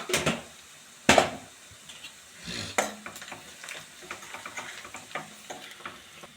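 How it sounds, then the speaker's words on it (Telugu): Chicken frying in a pan with onions, turmeric and ginger paste, crackling sizzle broken by sharp stirring scrapes and clinks of a utensil against the pan, several distinct knocks spaced irregularly, no voices. "మనం ఇప్పుడు చికెన్ ఫ్రై చేసుకుందాం"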